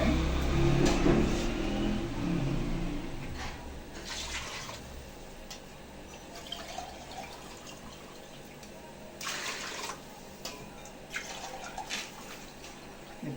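Filtered water running into a cooking pot for chicken biryani, a splashing pour that is strongest at the start and then tapers into softer trickles and intermittent drips.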